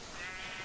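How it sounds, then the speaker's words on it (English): A single sheep bleat from the Minecraft video game, a brief wavering cry heard clearly on its own without speech. "there's like 8 zillion sheep up there now"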